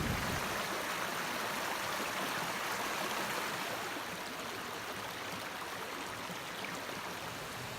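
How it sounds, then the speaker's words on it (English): O.K. Slip Falls in Hamilton County, a waterfall of white water dropping over a brink into an ice-cold pool, roars as a steady, dense, continuous rush without pause or voices. "white water pouring over the edge off the brink and dropping and cascading off and finally reaching an ice-cold pool down at the bottom"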